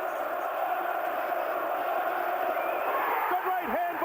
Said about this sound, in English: Listen to this crowd, the chanting, the singing.